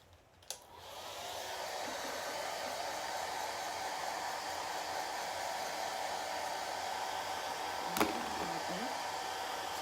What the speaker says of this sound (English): I'm gonna go ahead and get the blow dryer and put it on cool